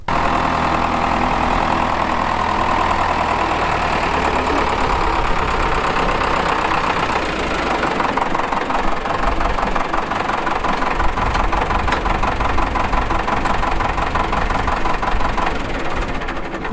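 Tractor engine idling close by at the Yorkshire Air Museum at RAF Elvington, loud and continuous with a slightly knocking, throbbing character and no talking.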